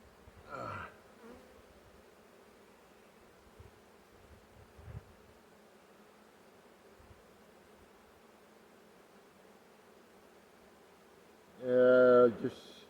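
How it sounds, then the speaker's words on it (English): Honeybees buzz softly in a smoked hive during an August inspection, a faint steady drone throughout with brief louder rustles and a close bee whine near the end. "A lot of bees."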